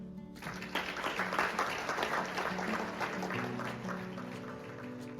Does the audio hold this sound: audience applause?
yes